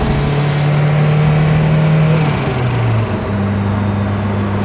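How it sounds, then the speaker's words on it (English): A 1993 Ford Escort RS Cosworth engine drones steadily at mid pitch, its tone dropping briefly as the driver shifts into third gear, then settling into a lower hum. "Shifting into third gear."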